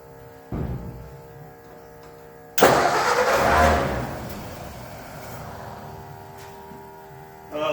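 An old project truck, neglected for about 30 years, cranks and catches: a short crank burst, then the engine fires loudly and settles into a steady idle that fades a bit before another rev at the end.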